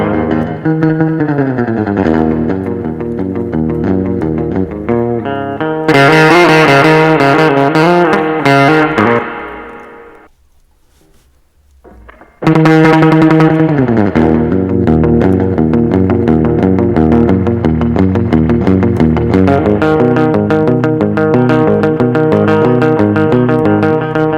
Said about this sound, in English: there's a little too much reverb on this